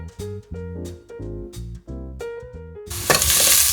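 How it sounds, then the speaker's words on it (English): Small, unevenly cut onions hiss and sizzle in a hot pan as they are stirred, with steady frying crackle punctuated by clanks of the spoon against the pan and a louder surge of sizzling at the end. "So for now we keep on stirring the onions"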